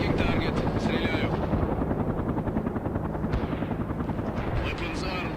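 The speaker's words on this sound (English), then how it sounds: "Heavy attack helicopter is in target" Mi-24 attack helicopter in the game World in Conflict, rotor drone throbbing loud and close while rapid weapon fire crackles in bursts over it, with radio-style voices talking intermittently.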